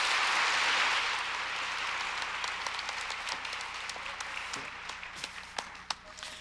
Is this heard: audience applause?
yes